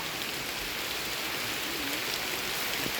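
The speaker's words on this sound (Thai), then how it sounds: "ฝนตกแล้วฝนตกแล้ว ไปไม่ไหวแล้วฝนตกนะคะ" Steady rain falls during a rainy day in a Thai rice-farming area where seedlings are being loaded for transplanting, a dense even hiss with no talk.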